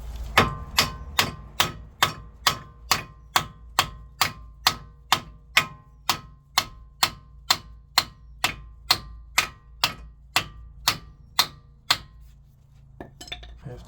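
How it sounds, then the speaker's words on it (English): A copper or aluminium hammer strikes metal during a Kia Sportage clutch replacement, about twenty-five sharp, evenly spaced blows close up, then the striking stops. "Always use a copper or a aluminium hammer."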